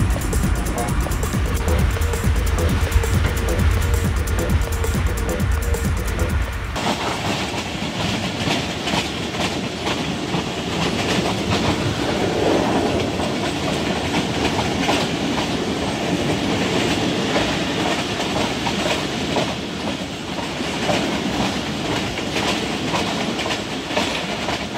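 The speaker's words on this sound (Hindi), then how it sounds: "शालीमार एक्सप्रेस जो अप्रोच कर रही है टोबा टेक्सिंग पे" Shalimar Express passenger train running on rails between Shorkot Cantt and Toba Tek Singh, a steady loud rumble and clatter of wheels with rhythmic clickety-clack throughout, heard from on board.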